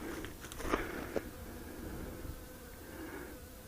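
A small bee buzzes faintly outdoors, its quiet drone coming and going with a few brief clicks and taps near the start, no voices over it.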